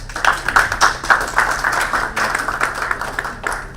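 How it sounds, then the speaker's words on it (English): A round of audience applause at an urban health and well-being summit session, moderately loud clapping with distinct individual claps over a low steady hum, carrying on for a few seconds. "Round of applause, please."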